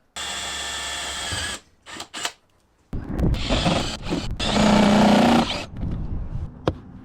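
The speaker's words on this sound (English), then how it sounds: "then I'm gonna go up top and drill through" A power drill whirs in several bursts of varying length, drilling holes down through the roof of an expedition truck box, separated by short pauses, close and loud, with pitch shifting as it bites through material.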